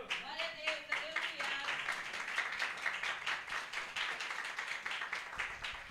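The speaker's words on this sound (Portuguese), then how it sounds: "louvando o Senhor com as palmas" A church congregation claps hands in praise in a steady, fast rhythm, sustained throughout, with voices murmuring underneath.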